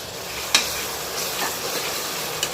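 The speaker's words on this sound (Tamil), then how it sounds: "அதையும் சேர்த்து நல்லா வதக்கிக்கலாம்." Onions and tomatoes sizzle softly in a pan for beef biryani, with a couple of sharp clicks from stirring.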